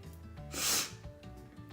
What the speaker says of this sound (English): Sorry I keep sniffing